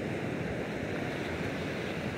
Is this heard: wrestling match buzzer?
no